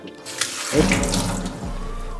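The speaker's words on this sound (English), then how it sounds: "then you just simply fill it with water." Tap water gushes into a clear ice mold after a brief quiet moment, a strong steady filling rush that is loud and close, with no voices.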